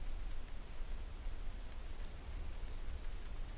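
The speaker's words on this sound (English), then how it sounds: "Right now, I'd very much like to get away from this rain and thunder." Steady rain falling during a storm with thunder, a dense, even hiss of drops on surfaces that holds constant throughout, fairly close and moderately loud with no voices.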